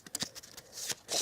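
A deck of game cards for the board game Shadows of Brimstone is shuffled on a table in a brief run of soft, close riffling flicks.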